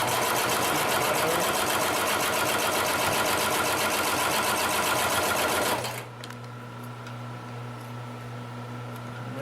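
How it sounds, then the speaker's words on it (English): A Consew 733R-5 heavy duty sewing machine stitches through folded layers of thick leather, a loud steady mechanical whir for about six seconds that then cuts to a quieter motor hum. "Now, although we're sewing through relatively thick material, it's not very dense."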